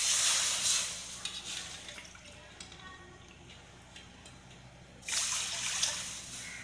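About one and a half cups of water pour into a cup for sugar syrup, with a bright splashing rush at the start, a quieter trickle, then a second strong pour near the end.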